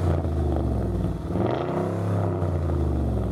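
Heavily modified street-racing car from Cologne's speeding scene revs loudly up close, a deep throbbing engine roar that swells and dips through the whole stretch, with no voices over it.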